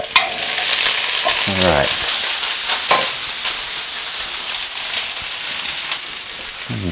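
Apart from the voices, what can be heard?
food frying in hot oil on high heat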